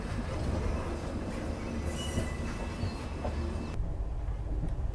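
A train running on the Alwar–Bandikui railway line makes a steady, loud rumble of rolling wagons with faint wheel squeal, heard from on board with no talking.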